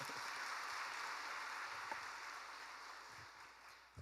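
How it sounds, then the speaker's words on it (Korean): Church congregation applauding in encouragement at a special dawn prayer meeting: a soft, distant, continuous wash of clapping that slowly tapers toward the end. "우리 박수로 한번 격려를 한번 해드립니다"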